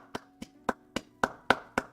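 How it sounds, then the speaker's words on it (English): A round of applause from hands clapping: eight sharp, evenly spaced claps at a steady moderate pace, close and fairly loud with nothing else around them, like a single person clapping. "a round of applause"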